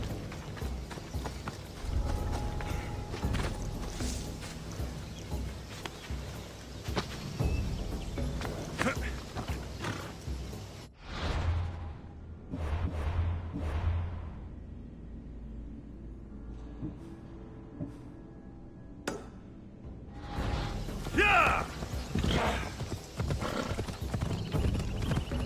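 Horse hooves clip-clopping at speed in Assassin's Creed Odyssey on PS4 Pro, a rhythmic galloping beat with occasional neighs, broken by a short quieter stretch midway and accompanied by game dialogue.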